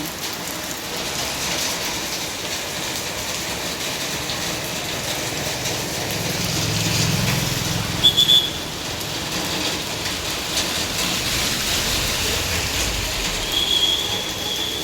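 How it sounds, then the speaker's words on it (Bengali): A continuous wash of rain all around, blended with a low rumbling rail-like noise and a few brief metallic squeals. "চারিদিকে পুরো বৃষ্টি হচ্ছে এখন।"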